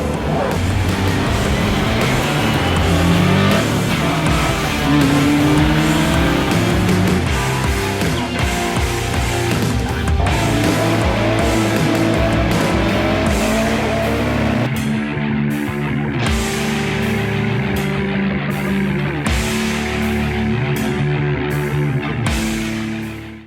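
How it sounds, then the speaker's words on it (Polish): An original Skoda Felicia Kit Car rally car drives hard around tight hairpins in Walim, its engine roaring loud and close throughout and rising and falling with sharp gear changes and throttle lifts toward the end. "Przejechałem się Felicją KitKar na patelniach w Walimiu"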